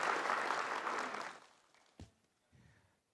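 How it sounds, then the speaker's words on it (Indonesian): An audience at a Balinese quiz show claps in a brief burst that fades out within about a second and a half, followed by a couple of faint knocks. "Tepuk tangan dulu dong buat Cempaka."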